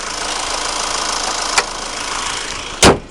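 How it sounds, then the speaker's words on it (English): A single solid bonnet slam on a 2009 Honda Accord EX GT with the 2.2 i-DTEC diesel, a sharp broadband thud near the end after a lighter knock, over a steady engine idle and hiss. "Just going to close this bonnet just 1 sec."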